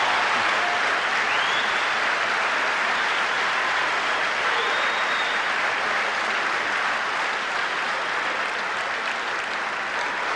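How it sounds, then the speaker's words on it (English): Sustained applause from a large audience, dense and even, carrying on for several seconds without talk. "I can see from your applause, sisters and brothers, that you agree with the report"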